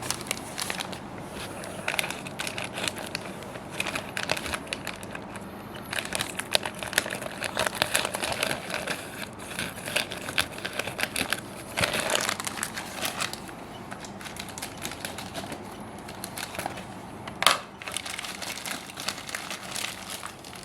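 Cardboard packaging for a Wild Stone Whisky perfume being cut open, a long run of close crinkling, tearing and crunching with scattered sharper snaps, steady and fairly loud, with no talk.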